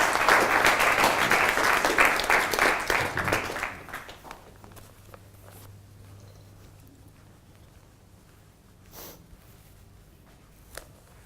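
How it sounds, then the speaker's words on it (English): Audience applauds an auctioneer from a real estate firm at a commercial and industrial auctioneering competition; steady dense clapping for about four seconds, then it fades to quiet room tone with a few scattered claps. "Please thank you and give him a big round of applause."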